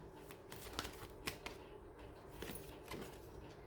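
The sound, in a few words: shuffling tarot cards to draw a clarifier card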